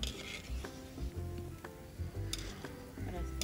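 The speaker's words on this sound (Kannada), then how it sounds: "ನೀರುಳ್ಳಿ ಹೇಗೆ ಕೆಂಪು ಕೆಂಪಾಗಿ ಫ್ರೈ ಆಗಿದೆ ನೋಡಿ" Sliced onions fry in hot oil for crispy onion pakoda, a faint continuous sizzle with occasional light clinks and stirring taps from utensils.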